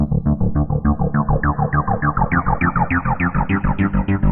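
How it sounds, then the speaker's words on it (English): A Reason synthesizer patch pulses in a fast, steady rhythm while its automated filter resonance sweeps upward and fluctuates every two bars, bright and distorted, with no voices. "every 2 bars we're hearing kind of like a fluctuation in resonance"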